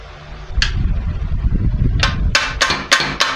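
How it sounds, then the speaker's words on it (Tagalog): A hammer taps on a soft sliding cabinet frame, landing about six sharp knocks that cluster into a quick run near the end, over a low rumbling background. "Medyo pukpok ng konti."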